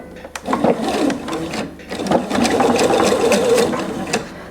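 Sewing machine shirring fabric with elastic thread, running in short bursts of rapid, rattling stitching with mechanical whirring, close and fairly loud, pausing briefly between runs.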